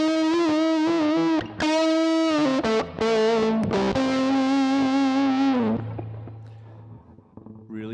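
Distorted electric guitar played through a software emulation of a 1970s Acoustic G60T amp, loud sustained chords and bent notes with heavy drive and effects, ringing out and fading at the end, no talking.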